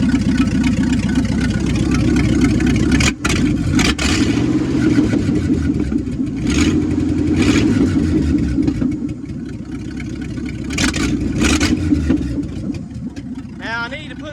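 A 1966 Chevrolet C30 truck engine runs steadily at a rough idle without exhaust, with a few quick revs rising and falling, close and loud throughout.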